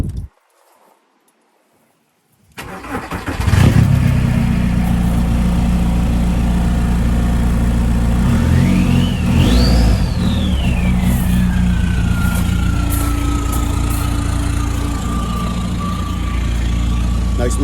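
A turbo diesel engine in a VW Lupo SDi cranks and clatters into life after a quiet moment, then idles with a rough, loud rattle while a rising and falling turbo whistle accompanies a rev, heard up close.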